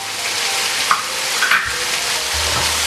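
Tomato and ginger drop into mince frying in a pan, a steady loud sizzle with a couple of brief stirring clinks and a low hum underneath.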